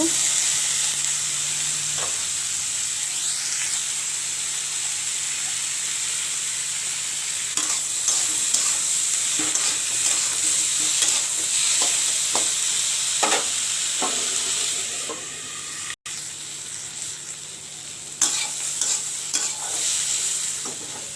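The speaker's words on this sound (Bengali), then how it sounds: "যখন উচ্ছে ভাজা চাপালাম, একসঙ্গে ডাঁটাও দিয়ে দেবো, ভেজে নেব" Bitter gourd and vegetable stalks fry steadily in oil in a wok, a continuous sizzle broken by repeated scraping stirs of a spatula, close and moderately loud with no voices.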